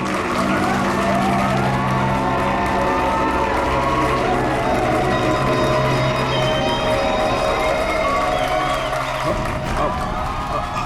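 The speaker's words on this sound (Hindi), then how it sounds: "तालियां!" An audience at a live stage show with a box act breaks into sustained applause and cheering, dense and loud over tonal music, before cutting off abruptly near the end.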